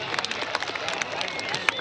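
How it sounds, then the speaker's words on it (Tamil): An audience at a music show in Krishnagiri claps for the band, a dense, steady patter of many hands with a voice speaking over it. "எல்லாரும் பேண்டுக்கு ஒரு பெரிய கைத்தட்டல் ஃபர்ஸ்ட் கொடுத்துடலாமா?"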